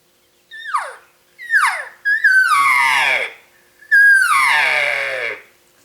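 Elk cow calls imitated by a person on a latex mouth reed: two short descending whistled purrs followed by two longer, buzzy estrus-style calls, loud and close, with brief gaps between them.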